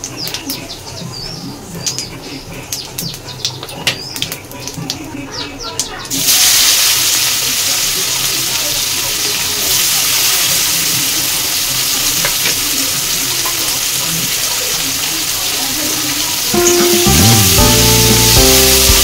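Onions frying in hot oil in an Odia home kitchen while a mixed fish-head curry is cooked, with a loud, steady sizzle that sets in suddenly and holds, swelling near the end as the pan is stirred.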